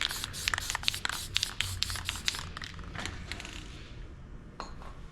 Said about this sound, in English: I just want to mist it on, because if you spray it too heavy, it'll soak up